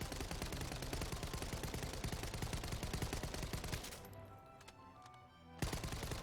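Rapid automatic gunfire from the video game The First Descendant, a loud, close, continuous stream of shots that stops abruptly partway through, followed by quieter mechanical clicks and a final burst.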